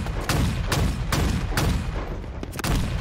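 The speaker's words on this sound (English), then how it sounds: "we got like the crazy fast fire rate sniper rifle" Fast-firing sniper rifle in Halo Infinite, five or six sharp, loud booming shots in quick succession, each with a cracking attack and a low rumbling tail, spaced roughly half a second apart.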